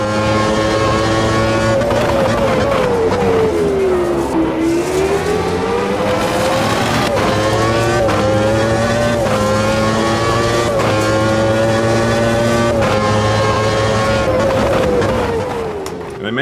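A race car in Automobilista 2 lapping the 1991 Montreal circuit, its engine loud and close, rising and falling in pitch through gear changes and corners, with a steady high-revving drone throughout.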